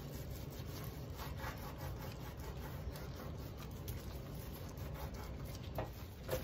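A soapy towel wiping grease off a stovetop, a soft continuous rubbing and scrubbing sound with a rhythmic back-and-forth texture, faint and close.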